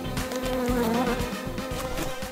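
A fly buzzes loudly and close by in a cartoon jail scene, a steady droning whine that holds for a couple of seconds with no voices over it.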